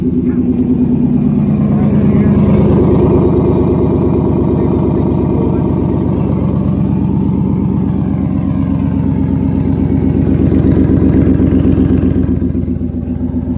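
A loud turbocharged Gen 2 Coyote V8 engine with a T6 turbo runs steadily at a rough, throbbing idle close by, its deep rumble unchanging throughout with no talking.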